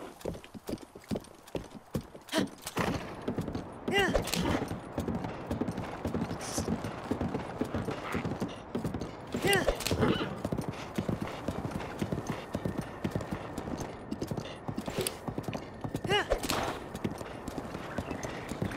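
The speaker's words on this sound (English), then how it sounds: "Am I just that bad at riding a horse?" Horse hooves clip-clop at a steady gallop in Zelda Breath of the Wild, a continuous rapid rhythm of close, clear hoofbeats with occasional louder thumps and faint game noises underneath.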